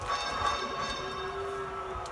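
A bell ding sounds in a basketball video game, a sustained ringing tone over busy, steady game audio with a low hum beneath it.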